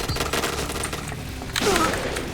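Bola12 JSR sniper rifle shots in a first-person shooter game, sharp repeated gunfire cracks through the opening, then a louder burst with a ringing, descending tail.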